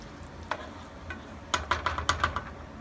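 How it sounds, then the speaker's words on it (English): Spaghetti sauce is stirred into cooked meat in a pan, a few sharp spoon scrapes and clacks against the pan over a soft sizzle, quickening into a rapid series of strokes; no voices. "take my spaghetti sauce and put it back in the pan to mix it up with the meat"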